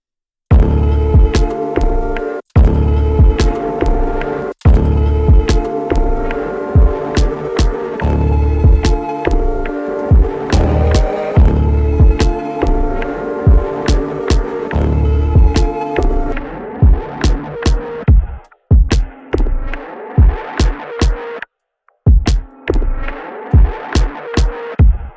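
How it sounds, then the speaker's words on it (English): A dark, textured music sample built with a distorted-phrases preset and played reversed: loud, dense tonal hits and swelling, backward-sounding phrases in a steady pulse, thinning into sparser stuttering fragments near the end. "So I'm gonna add distorted phrases on."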